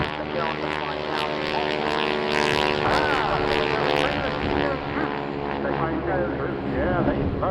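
A propeller aircraft at an air show near Bournemouth gives a steady, loud engine drone with whirling propeller noise throughout, with a spectator crowd and voices mixed underneath.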